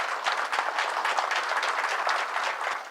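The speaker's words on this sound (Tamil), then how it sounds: "இந்த அரங்கம் நிறைய அவருக்கு கைத்தட்டல் வேண்டும்." Audience applause filling an auditorium at a book-related literary event, a dense steady wash of many hands clapping throughout, loud and sustained with no speech over it.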